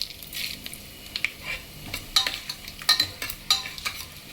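Coriander seeds sizzle lightly in hot oil in a pan for a South Indian sambar, with a steady soft hiss and irregular clinks and scrapes of a spoon stirring against the pan.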